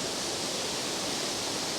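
Powerscourt Waterfall in Ireland pours as a steady, even hiss of rushing water, a continuous broadband wash with no pauses or voices.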